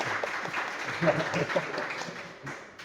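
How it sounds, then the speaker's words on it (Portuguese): An audience gives a round of applause, moderate clapping from a small group mixed with voices talking at the same time, fading slightly toward the end. "Uma salva de palmas para eles"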